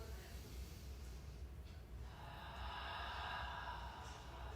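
Exaggerated yoga breathing for relaxation, ujjayi-style: a soft breathy inhalation followed by a longer, louder hissing exhalation, close and steady against a quiet room.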